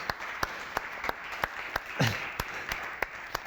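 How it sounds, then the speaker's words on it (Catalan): A small audience at a Gastropirineus food event in Puigcerdà featuring Cadí cheeses claps in a faint, sparse, evenly spaced rhythm of distinct single claps, with a brief vocal sound midway. "un gran i fort aplaudiment."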